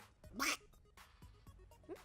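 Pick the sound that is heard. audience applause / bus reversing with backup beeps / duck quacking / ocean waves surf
duck quacking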